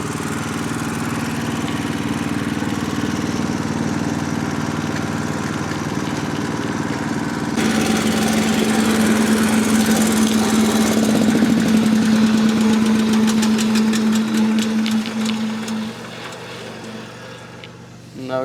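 A small garden tractor engine runs steadily nearby with a continuous mid-pitched drone and chugging roughness, holding level for most of the time before easing down toward the end.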